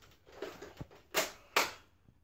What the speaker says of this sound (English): Dude, two darts popped out of the barrel when you shot that.